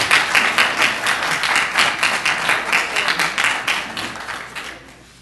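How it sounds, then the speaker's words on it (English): A roomful of people at a JNet appreciation event applaud loudly and continuously, a thick wash of overlapping hand claps that holds steady for several seconds before gradually fading out. "please give yourselves a big round of applause"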